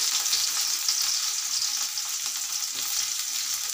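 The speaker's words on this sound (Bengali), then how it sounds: "তো প্রথমে আমি দিয়ে দিচ্ছি পেঁয়াজ।" Onions frying for a Bangladeshi dried-fish (shutki) curry, a steady bright sizzle with faint crackles that stays close and loud throughout, with no talking.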